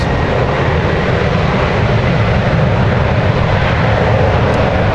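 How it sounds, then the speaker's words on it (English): A jet airliner with General Electric GE90 engines roars steadily at San Francisco International Airport, a loud, continuous, close engine rumble with no talking over it. "The aircraft you're hearing right now."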